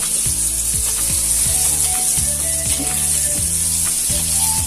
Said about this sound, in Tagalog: maglalagay na po tayo ng mantika at igigisa na po natin yung bawang, sibuyas, at saka kamatis natin.